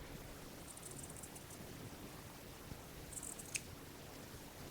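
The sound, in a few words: scissors trimming fabric seam allowance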